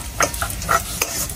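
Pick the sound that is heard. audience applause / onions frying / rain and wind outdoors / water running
onions frying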